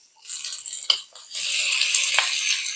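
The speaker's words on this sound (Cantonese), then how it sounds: "跟住就倒埋個牛肉落去炒" Beef and onion stir-frying in a wok for beef chow fun, a bright sizzle with short scraping and stirring clatters, steady and close with no talk.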